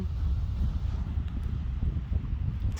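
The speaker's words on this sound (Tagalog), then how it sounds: "Malakas kasi hangin dito guys" Steady, strong wind buffets the microphone with a continuous low rumble and roar, no voices heard.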